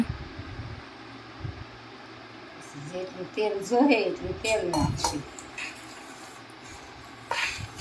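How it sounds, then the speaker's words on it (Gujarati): A spoon clinks and scrapes against a pot as a mango pickle mix is stirred and oil is poured in, with a cluster of metallic clatter in the middle and a voice talking over it. "મિક્સ કરતા જાઓ ને એ પ્રમાણે તેલ નાખતા જઈશું"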